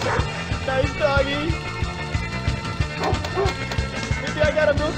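A dog barks and yips repeatedly from a video game pinball table, layered over a thumping rhythmic game soundtrack and busy electronic effects, all loud and continuous.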